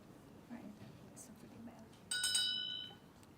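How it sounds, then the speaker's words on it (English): A small bell rung as a timing signal at a schools public speaking competition gives one bright, ringing strike that decays over about a second, preceded by faint room noise and murmuring. "So you listen to the bell."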